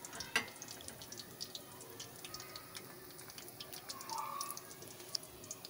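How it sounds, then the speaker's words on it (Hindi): Chicken popcorn fries in hot oil, giving a faint, continuous fine crackle and bubbling with scattered small pops, quiet and steady throughout. "साथ ही हमने चिकन पॉपकॉर्न भी फ्राई करने के लिए रख लिए।"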